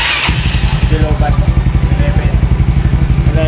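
A Yamaha Mio Sporty scooter with a refreshed 59mm stock-head engine starts and settles into a loud, close, steady idle with a rapid, even putter, while a person talks over it.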